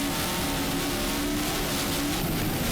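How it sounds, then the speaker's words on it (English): A 40-foot Superboat Unlimited catamaran powerboat with twin 1400 horsepower engines races at the 2005 Fort Lauderdale Grand Prix, a loud, continuous, close engine roar filling the whole moment. "Herb Stotler is the driver and engine builder of the twin 1400 horsepower engine"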